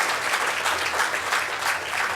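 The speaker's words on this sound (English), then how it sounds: "yeah, you're clapping" Audience clapping at a talk, a dense steady patter of many hands sustained evenly throughout, moderately loud with no voice over it.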